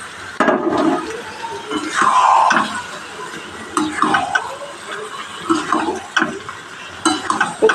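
Boiled papaya, potato and moong dal stirred into spices in a pan, giving soft irregular scraping and mashing strokes with faint sizzle, close and moderately loud, with brief gaps between strokes.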